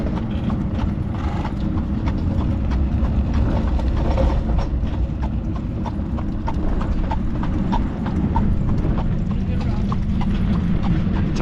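Horse hooves clip-clop steadily on a bridge deck while people talk over them, with a faint mechanical rattle of gear underneath.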